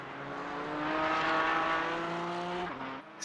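A race car engine in a sim racing game at Las Vegas Motor Speedway drones loudly and steadily, pitch climbing slightly, then dropping with a brief shift near the end; no voices.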